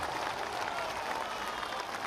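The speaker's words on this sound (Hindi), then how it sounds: "जोर से बजाइए ताली।" A crowd at a Bihar political rally claps in a dense, even wash of applause, somewhat distant and moderately quiet, with no voices standing out.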